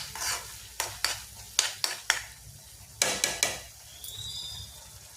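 Spatula scrapes and stirs a tempering of onions in a pan, several sharp strokes in bursts with a soft sizzle beneath, close and distinct, no talking.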